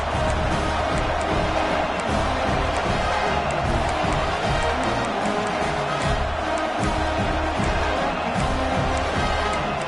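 A home stadium crowd at a college football game against USC roars after an opening touchdown, a dense, continuous wall of cheering and noise that fills the whole stretch with no break.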